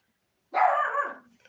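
A single loud, close dog bark with a rough, slightly growling edge breaks a quiet indoor room and trails off quickly into silence.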